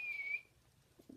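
A person whistles a short, steady tone in imitation of a bird call, lasting under half a second before falling to quiet, with faint low thumps near the end.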